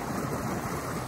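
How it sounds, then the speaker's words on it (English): Small waterfall on a little creek running past a house, a steady broadband rush of falling water close to the microphone, continuous and even throughout with no voices. "And waterfall back there, little waterfall here."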